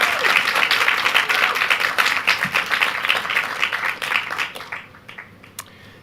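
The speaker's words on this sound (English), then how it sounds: "Can we please have a big round of applause for the graduates of" An audience gives the 2023 design master's graduates a round of applause, full steady clapping that tapers off into scattered claps near the end.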